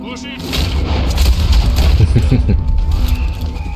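Gunfire booms in Red Dead Redemption 2, a cluster of heavy shots landing in the middle of a noisy stretch of game sound, while someone talks over the action.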